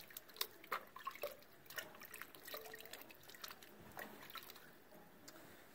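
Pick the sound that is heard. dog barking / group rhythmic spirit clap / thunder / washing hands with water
washing hands with water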